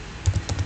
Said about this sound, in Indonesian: Kalau kita ketik di sini